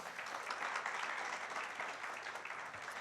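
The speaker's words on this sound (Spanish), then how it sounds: "Un aplauso para Dani, por favor." Steady applause from a seminar audience welcoming a guest speaker, a dense even wash of clapping that continues at moderate loudness throughout with no talk over it.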